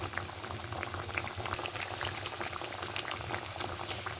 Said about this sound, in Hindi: ये देखें जी, हमारा ये बैच बहुत ही अच्छी तरह फ्राई हो रहा है।